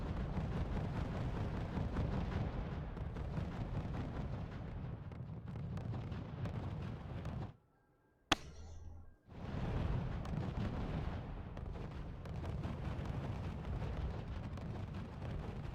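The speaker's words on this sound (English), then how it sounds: "Also have the light artillery shooting." Light artillery fires in the strategy game R.U.S.E. on a snowy Nuclear Winter map, a dense, continuous rumble of booming shots and explosions broken by a brief near-silent gap and one sharp crack before the barrage resumes.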